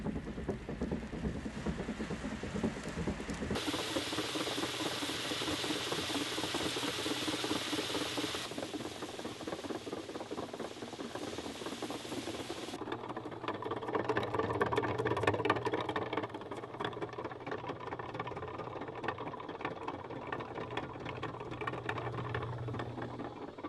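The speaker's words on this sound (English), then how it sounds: "this bucket elevator will move 75 to 80 bushels per hour" A Thrifty-Lift M-100 bucket elevator runs steadily while moving grain, giving a continuous mechanical clatter and ratcheting hum with no talk. Its tone shifts at a couple of points and grows slightly louder near the middle.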